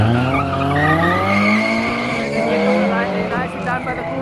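A Vauxhall Corsa and a Golf 5 GTI launch side by side in a drag race at Killarney, with loud squealing wheel spin over rising, overlapping engine revs that climb through the gears; a commentator talks throughout.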